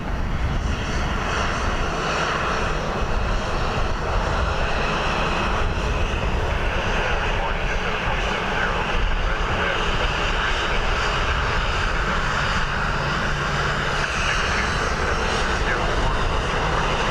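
A fixed-wing airliner lands at Dublin Airport on a windy day, its engine roar loud, broad and steady throughout, with faint radio-style talk under the noise.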